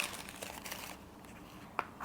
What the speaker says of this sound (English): Still wrapped in tissue paper.